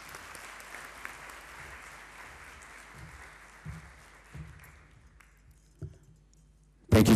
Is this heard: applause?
yes